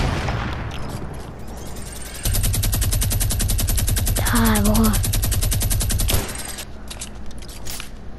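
Rapid automatic gunfire in Fortnite, a dense rattling burst lasting several seconds over game ambience, with sparse single shots before and after.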